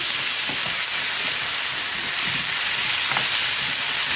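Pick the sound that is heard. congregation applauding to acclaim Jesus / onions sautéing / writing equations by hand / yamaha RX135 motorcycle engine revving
onions sautéing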